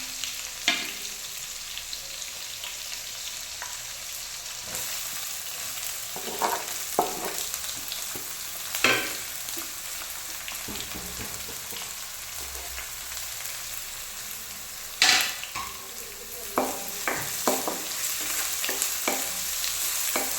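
Onions fry in ghee while being stirred, a steady moderate sizzle punctuated by occasional sharp scrapes and clatters of the spoon against the pan, with no voices.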